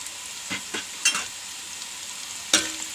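Turmeric, curry masala and fennel powder fry in oil in a pan for a chicken curry: a steady soft sizzle with a few scraping stirs of a spoon, close and alone.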